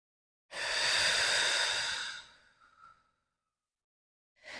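A single long, loud exhale during a yoga practice, a breathy rush lasting about two seconds that tapers off, followed by silence and the start of another breath at the very end.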